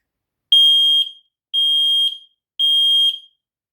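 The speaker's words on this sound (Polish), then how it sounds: "Sprawdzimy sobie jego działanie za pomocą tego przycisku testowego. Tak więc uwaga, przez chwilę będzie głośno." Three loud, shrill electronic beeps from a Technisat Smoke Sensor 2 WiFi smoke alarm's test button, each about half a second long, evenly spaced with short gaps between them, close by.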